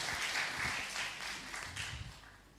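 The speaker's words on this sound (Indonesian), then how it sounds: "Kita berikan tepuk tangan sekali lagi ya untuk paduan suara anugerah." Applause for a church choir during a Sunday service, a steady wash of clapping from the congregation that gradually fades, heard from a distance.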